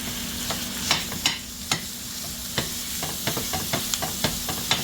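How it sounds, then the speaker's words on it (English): Ground pork and onions frying in a pan, a steady soft sizzle punctuated by repeated scraping and clacking of a utensil stirring the meat, close and moderately quiet. "So I'm gonna let this and the onions cook up for a bit."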